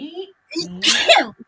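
A single sharp sneeze bursts out loud and close during a relaxed conversation, with a person talking just before it.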